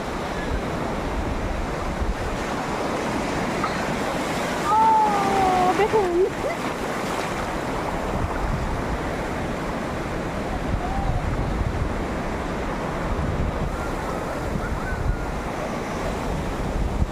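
Sea waves wash steadily onto the shore at Bakkhali beach in a continuous loud rush, with wind buffeting the microphone throughout.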